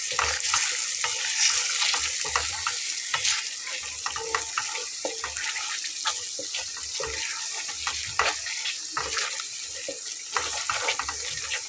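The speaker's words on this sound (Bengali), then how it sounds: "টক দইটা খুব ভালোভাবে নেড়ে চেড়ে আমি মিলিয়ে নিচ্ছি।" Sour yogurt is stirred thoroughly into a cooking mixture in a pan, giving a continuous wet scraping and sizzling texture with irregular clicks of the spoon, close and steady throughout with no talk.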